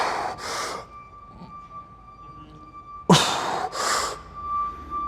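Heavy breaths during a Romanian deadlift: two sharp nasal inhales or snorts near the start, then a louder burst of two forceful breaths about three seconds in, close and with no talk.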